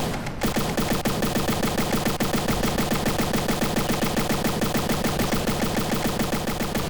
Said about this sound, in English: I was really close to the cannon and just started firing, so it was really loud